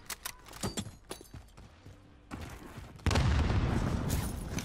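Gunfire in a battle royale video game: scattered shots and short bursts at moderate distance, building into a dense, loud barrage toward the end, with no talk.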